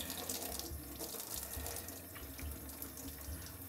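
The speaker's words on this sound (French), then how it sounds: "notre poireau est plutôt beau et je le rince dans l'évier" Kitchen tap water pouring over a leek being rinsed in the sink, a steady, soft splashing rush that runs without pause.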